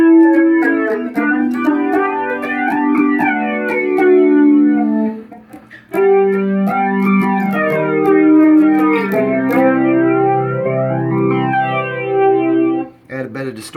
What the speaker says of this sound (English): here we have a flanger, which has that cresting wave, sort of airy Doppler effect, jet kind of thing.